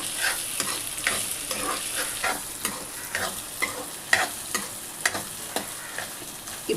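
Peas frying in oil with onion and garlic while a spoon stirs the pan, giving a steady close sizzle broken by regular scraping clicks and knocks, with no talking.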